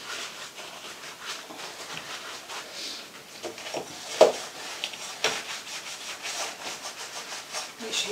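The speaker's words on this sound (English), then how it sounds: "Make sure you give it a good scrub because there might be a lot of grease in it." Close scrubbing of a greasy oven panel during a deep home clean, with steady rubbing strokes and a few sharper scrapes, no voices.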